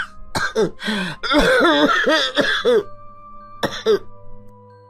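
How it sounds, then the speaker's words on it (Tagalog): A few rough coughs and throat-clearing bursts, close and fairly loud, followed by a pause and a last short cough. "Mahirap pong pinapabayaan lang ang ubo"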